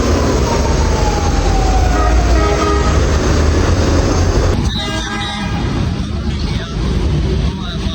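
The Saniya Express passes close by with a loud, continuous roar of rolling wagons and a long horn tone, and a voice is heard over the din.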